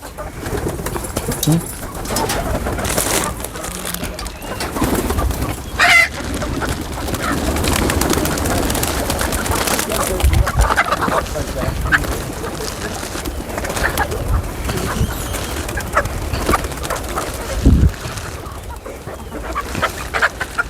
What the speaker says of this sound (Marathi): आता कबूतर किती कबूतर आहे